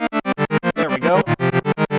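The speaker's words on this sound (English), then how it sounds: "Just a little bit of delay." Korg Volca Keys synthesizer playing arpeggiated chords through a delay effect, sequenced from a Keystep 37: a fast, even run of bright pitched notes, roughly eight per second, steady and close for about two seconds with no voice.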